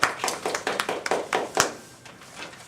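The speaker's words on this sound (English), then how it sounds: "Let's give her a round of applause" A small classroom audience gives a student a round of applause after her persuasive speech, sparse, uneven clapping with distinct individual hand claps that thin out and fade within a few seconds.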